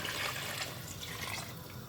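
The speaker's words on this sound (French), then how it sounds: "Ensuite, je vais recouvrir ma viande d'eau." Water poured into a pot to cover veal for a blanquette de veau, a short, soft, continuous watery rush close by, gradually easing, with no talking.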